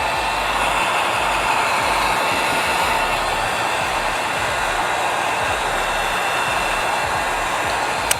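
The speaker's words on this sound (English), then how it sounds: "So just grab your heat device," A heat gun warms the chrome delete vinyl wrap on the front grille of a 2017-2020 Nissan Armada, giving a steady, loud blowing roar that runs without a break for about eight seconds with no talking.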